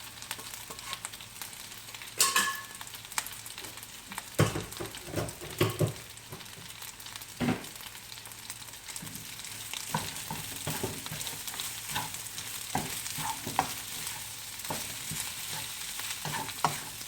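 Long-grain Indian rice stir-fried in a pan for egg and barbecue chicken fried rice, with a steady sizzle under repeated scraping and clanking of the spatula, close and moderately loud, no talking.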